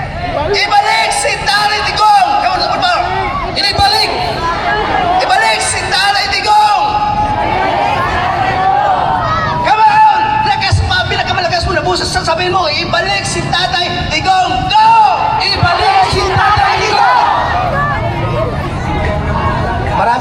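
A crowd at a peace rally in Kidapawan shouts and cheers in loud, sustained babble with whoops rising throughout, and a voice carries over the noise.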